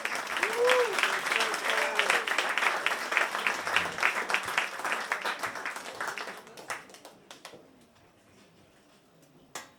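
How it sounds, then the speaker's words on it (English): A live comedy-night audience at Joe's Café applauds a comedian with dense, lively clapping and some cheering voices, thinning out and fading to near quiet after several seconds. "Please give him a nice round of applause."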